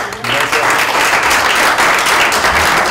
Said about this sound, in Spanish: Bueno, pues le damos un aplauso al doctor.